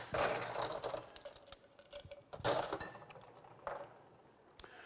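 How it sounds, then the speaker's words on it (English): Ice cubes clink into a Collins glass at a cocktail bar, several bright clattering bursts close to the microphone separated by brief pauses, with light handling noise between them. "I'm going to add ice."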